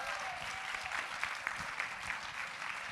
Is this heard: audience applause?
yes